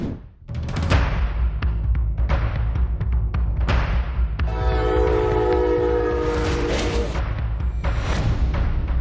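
A train roars past at close range over a level crossing with rumbling wheels and rattling cars, its horn blaring steadily through the middle of the passage.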